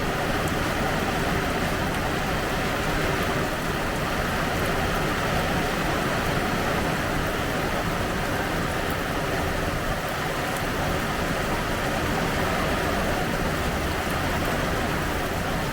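Heavy hurricane rain from Hurricane Debby pours down in a dense, steady roar, loud and unbroken throughout with no gaps or voices.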